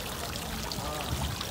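Water pours steadily from a hot spring fountain in Wiesbaden, a continuous close splashing gush with a broad, even wash of sound and faint background voices.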